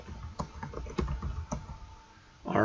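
Fingers type a name on a computer keyboard in quick, uneven bursts of close, light key clicks, with brief pauses and a louder clack at the end.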